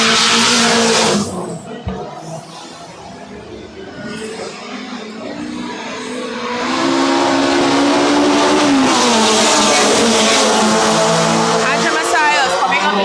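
Race cars speed down a straightaway at a race meeting, engines roaring loudly and rising as they pass close. The sound dips briefly mid-clip, then returns full and sustained with some tyre noise and no clear speech.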